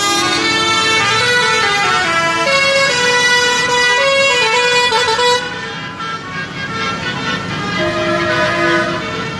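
Tractor horns blare at a farmers' protest in Daun, Rhineland-Palatinate, in January 2024: overlapping loud, sustained honks and toots from many vehicles, continuous and close, thinning slightly partway through before swelling again.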